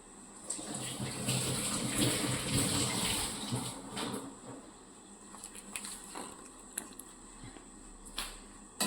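Food being washed under a running kitchen tap, a steady gush of water splashing into a sink that swells loudly early, then eases into lighter trickles and a few knocks and splashes near the end.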